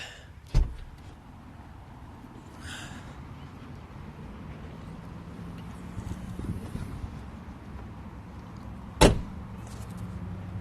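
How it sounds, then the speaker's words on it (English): The rear hatch of a 2002 Pontiac Firebird T-top pops open with a sharp latch clunk near the start and another solid thud near the end, over a quiet, steady outdoor background. "let's pop the rear hatch"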